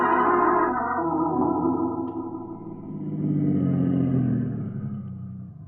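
A car drives in a 1949 radio drama sound effect, a rumbling engine drone that swells and fades with a processed, echoey tone.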